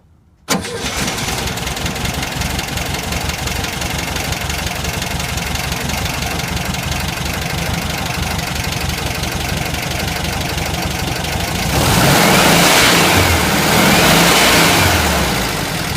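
An engine fitted with dual Kadron carburetors catches and starts, settles into a loud, steady running note nearby, then is revved harder near the end before easing back.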